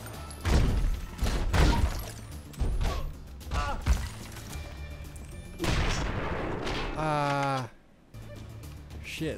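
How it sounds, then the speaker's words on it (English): Shotgun blasts in the action game Mr Shifty, a few heavy booming shots with thuds and clatter in a busy game mix, followed by a rising tonal swoosh and a brief drop to near silence. "Shit, it's a shotgun"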